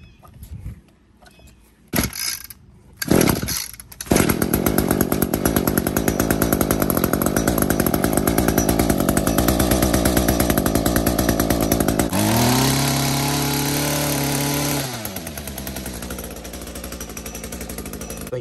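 An ECHO GT225 string trimmer with a stalling fault is pulled and starts with a few sputters, then its small two-stroke engine runs loud and steady, revving higher and settling back toward idle.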